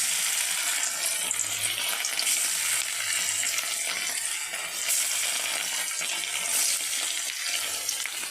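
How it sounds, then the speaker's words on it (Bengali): Pieces of rohu fish fry in hot oil in a wok, giving a dense, continuous hissing sizzle at moderate volume throughout, with no voices. "এবার আমি মাছটা ভেজে নেব"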